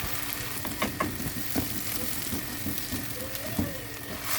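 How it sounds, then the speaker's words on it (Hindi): Garlic-ginger paste and onions fry in a pan for a dhaba-style chicken karahi, giving a steady close sizzle with occasional spoon scrapes and stirring knocks, and no talking. "अब इसे अच्छी तरह मैं भूनूंगी 2 से 3 मिनट।"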